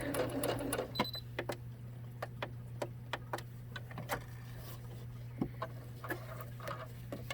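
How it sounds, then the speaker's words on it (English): A sewing machine runs slowly stitching cloth face masks over a steady low motor hum, its needle clicking in an uneven series of sharp taps close by. "I have the sewing machine on slow so that you can see"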